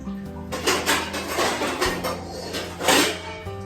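A kadai and pots are handled in a home kitchen while cooking Hakka noodles, with clattering metal knocks, scrapes and clinks in uneven bursts. The sounds are close and fairly loud, with a sharp clang near the end.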